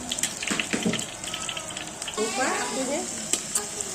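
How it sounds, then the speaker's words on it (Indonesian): Tempeh sizzles and crackles in hot frying oil in a pan, with intermittent stirring and spattering bursts at moderate loudness, no talk over it. "sekarang kita lanjut goreng tempe"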